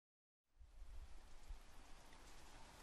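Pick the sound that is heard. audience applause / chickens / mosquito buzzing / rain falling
rain falling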